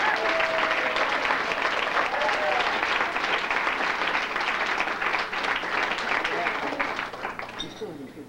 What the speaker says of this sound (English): So I'd like a round of applause for the Watergate staff.